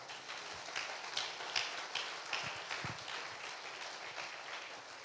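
A church congregation applauds in a faint, distant, continuous wash of clapping, with a few softer thuds underneath and no talk on top.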